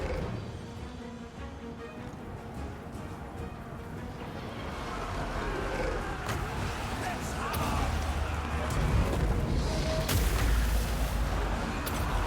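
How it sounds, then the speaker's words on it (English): Explosions in a fantasy role-playing video game, heavy rumbling booms that swell louder toward the end, with a sharp blast near the close, under a man's speech. "It's a good explosion here."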